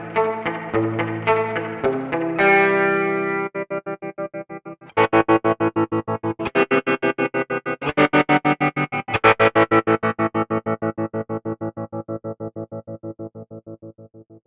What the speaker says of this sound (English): This preset also features MercuryX's new spring reverb structure.